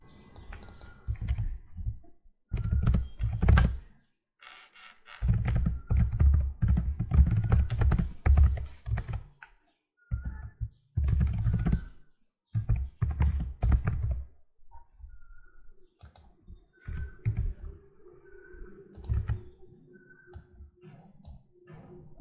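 Keys are typed on a computer keyboard in bursts of rapid clicking, close and fairly quiet. Several short pauses break the runs over about twenty seconds.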